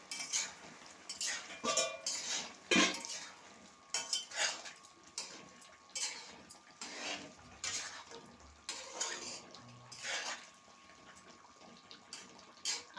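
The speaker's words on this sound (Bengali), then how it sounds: "যে মাংসটা আবার একটু আমি ঢাকনাটা করে নেড়ে দেবো" Chicken meat stirred in a metal pot over a low flame, cooking in its own juices, with a steady run of scraping and clinking spoon-on-pot strokes and light wet sloshing, moderately close.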